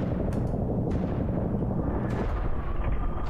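Bombs dropped from an aircraft explode in the video game Ravenfield, with a dense, continuous roar of battle and several sharp blasts layered over it. No voices are heard.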